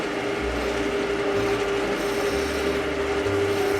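A skew chisel rides its bevel to cut a bead on spinning wood on a lathe, giving a close steady scraping rasp over the lathe's constant hum.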